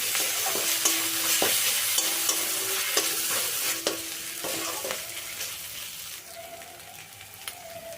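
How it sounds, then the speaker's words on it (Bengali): Ginger and garlic paste sautéing with fried onions in oil for a new-potato alur dom, a crackling close sizzle broken by regular spatula scrapes that thin out toward the end, no talking. "আদা রসুনটা এখন ভালো করে কষিয়ে নেব"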